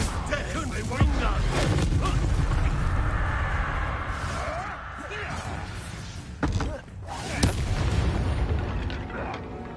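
Confringo blast spell cast in Hogwarts Legacy, a booming explosion rumbling over busy game sound, with a sharp burst near the end and a player's voice talking over the action.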